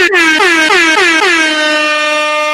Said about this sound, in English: I'll air horn myself.